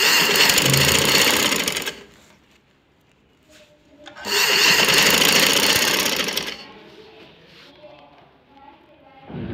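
A sewing machine stitches lace trim onto a fabric potli bag, running in two loud, steady bursts of a couple of seconds each, with someone talking in the pause between them.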